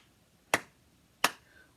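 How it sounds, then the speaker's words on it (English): Two sharp, crisp claps land about three quarters of a second apart in a quiet room, keeping a steady beat during a children's music lesson, with no talking. "Can you clap with me?"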